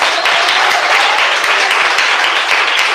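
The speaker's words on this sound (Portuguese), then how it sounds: "Mais palmas para Jesus" A church congregation claps loudly and continuously for Jesus, a dense, steady wall of applause with no pauses, close and full throughout.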